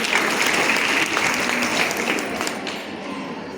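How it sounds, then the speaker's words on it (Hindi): Audience applause fills a school function hall at Saraswati Balika Vidya Mandir in Shamli, a dense steady wash of many hands clapping that thins slightly toward the end. "ताली बजा दीजिए"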